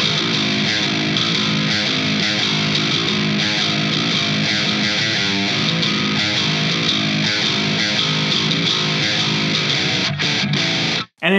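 A heavily distorted electric guitar riff of drop-tuned power chords, played at full speed, loud and dense, chugging steadily for about eleven seconds before cutting off abruptly.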